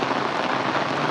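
Rain falls steadily on a rainy day in a Punjabi village, a dense, even patter of drops on surfaces that stays constant and fairly close throughout the short stretch without any voices.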